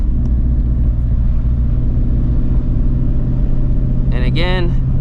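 A car with a manual transmission hums as a steady, close, low engine rumble while moving through the gears, with a brief voice heard near the end.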